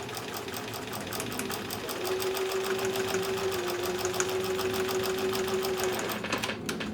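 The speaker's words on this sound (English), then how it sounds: "carry on stitching until the end, at which point I stitch onto my thread saver again" Sewing machine stitching a mini mosaic quilt, running as a steady close mechanical whir with a rapid needle rhythm that continues alone for several seconds.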